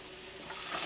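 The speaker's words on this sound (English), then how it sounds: "Sizzle!" Onions and garlic sizzle steadily in hot olive oil, a bright hissing crackle that swells louder toward the end.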